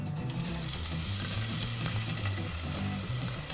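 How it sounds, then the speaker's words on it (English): Onions sizzle loudly and steadily in hot olive oil in a pan, a close, even frying hiss with light stirring clatter that carries through the short stretch with no voices. "Put the onions in."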